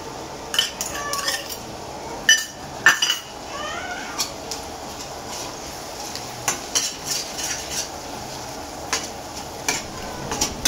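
Prawns added to a hot pan for a spicy Maharashtrian kolambi thecha, then stirred: metal utensils clink and scrape against the pan at irregular intervals over a constant background sizzle, close and fairly loud.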